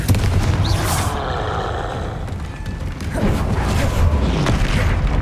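Spell explosions from the Confringo charm in the Hogwarts Legacy game, booming blasts over dense rumbling combat noise, loud and continuous with a fresh burst near the middle.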